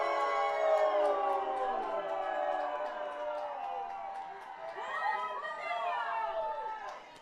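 Spectators at a high school football game reacting to a late penalty flag, with loud excited shouting and jeering rising and falling across the clip in overlapping voices.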